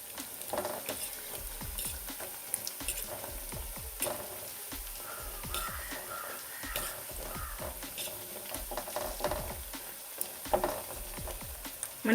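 Pumpkin vadiyalu frying in hot oil over a medium flame, a steady close sizzle with crackling bursts and occasional scraping stirs throughout.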